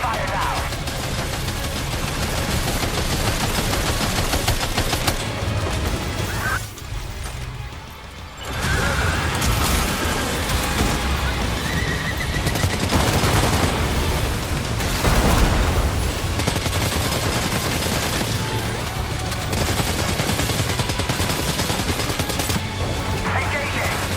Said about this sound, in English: Opening fire now.